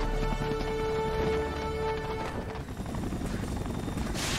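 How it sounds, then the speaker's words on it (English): A helicopter in a Spider-Man video game whirs with a steady mechanical drone, then a rougher crashing rumble takes over as it goes on. "He's just gonna have the helicopter fly into it."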